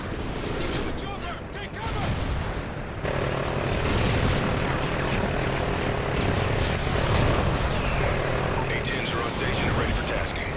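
Helicopter rotor and engine drone in the Call of Duty: Ghosts mission Homecoming, a steady loud wash of noise mixed with gunfire and battle clutter, with a voice talking over it.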